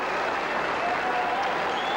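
A cricket crowd at a 1994 New Zealand versus Pakistan test match in Christchurch applauds warmly, steady dense clapping filling the ground.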